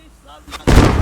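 A tank's main gun fires an armor-piercing round in the video game Squad: one sudden loud blast near the end, with a broad roar continuing after a quieter stretch carrying faint voices and low rumble.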